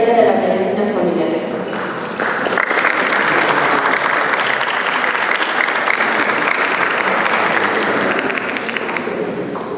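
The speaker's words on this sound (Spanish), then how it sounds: "Recibamos con un fuerte aplauso" Sustained applause from a conference audience welcoming Dr. Orlando Cueto Aguilar to speak on international organizations and the history of family medicine, a steady dense wash of clapping lasting nearly ten seconds with some murmured voices beneath.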